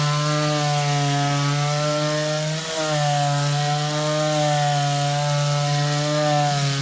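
An electric sander, a cheap unit bought secondhand, runs steadily on an alloy wheel, working 80-grit sandpaper over scuffs while prepping the rim for a respray; a loud, continuous motor whine with strong harmonics holds for the whole stretch, with one brief dip partway.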